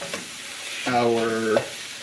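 Vegan ingredients sizzle steadily in a frying pan, a constant hiss with a brief tonal squeal in the middle, close and moderately loud with no talking.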